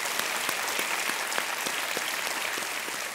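Studio audience at an Indian television quiz show claps continuously, a thick, even wash of applause at moderate distance with no voices over it.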